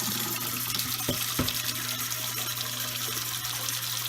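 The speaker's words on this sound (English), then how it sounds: "all I'm going to do is fill up my jars, or fill up my pot here next to my jars" Tap water pours steadily into a cooking pot set beside canning jars for oven-made yogurt, a continuous rushing gush at close range with no talking.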